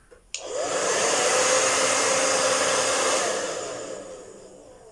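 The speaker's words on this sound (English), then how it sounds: "put it in the strainer, and then blow dry from the underneath" A handheld hair dryer blows up from underneath into a strainer holding curly hair, switching on with a click into a loud, steady close-up whoosh before easing off toward the end.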